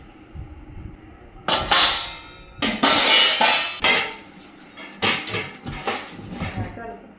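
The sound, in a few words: masala spice box from a 30-piece utensil set being handled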